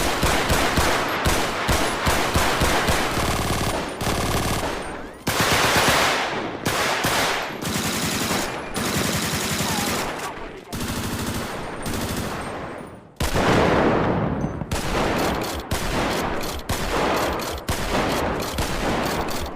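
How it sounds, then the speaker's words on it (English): Loud, realistic gunfire from a weapon sound mod in the GTA V video game: sustained automatic bursts and rapid volleys with sharp cracks, brief pauses between strings of fire, filling the clip without speech. "So let's improve those as well, with realistic weapon sounds."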